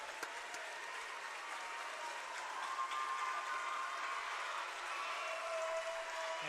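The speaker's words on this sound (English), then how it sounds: "As they get a standing O from the home crowd." A home crowd at a school basketball game gives a standing ovation after a player's 1,000th career point, sustained distant applause and cheering filling the gym at a moderate, even level.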